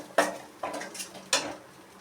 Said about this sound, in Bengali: এবার আমি একটুখানি কষিয়ে নেব কালারটা আসা অবধি।